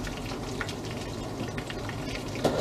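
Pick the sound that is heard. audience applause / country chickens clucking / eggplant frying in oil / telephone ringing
eggplant frying in oil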